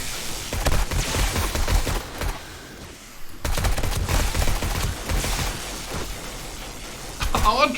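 Automatic turrets in 7 Days to Die firing at zombies, a continuous rattling stream of shots that breaks off briefly midway and then resumes, with a voice talking over it.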